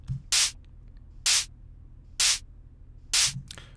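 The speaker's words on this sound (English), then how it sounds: "let's listen to the white noise." Four short, evenly spaced bursts of bright white-noise hiss, a sample for layering with a snare drum, each about a fifth of a second long, stand out against a quiet low hum.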